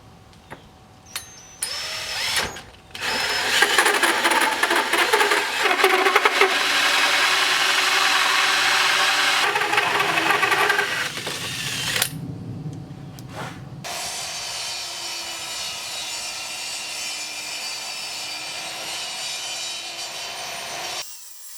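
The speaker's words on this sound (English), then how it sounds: "we're going to go ahead and drill out these holes" A power drill bores holes in wood for a homemade fishing rod rack, with short bursts at first, then a long loud steady whine that drops briefly and picks up again at a lower, quieter pitch.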